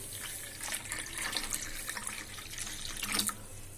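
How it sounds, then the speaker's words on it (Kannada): Water runs steadily from a tap into a bowl of semolina, a continuous splashing trickle with brief louder gushes, close by and with no talking. "ನಾನು ಇದನ್ನ ನೀರು ಹಾಕಿ ನೆನೆ ಇಟ್ಬಿಡ್ತೀನಿ"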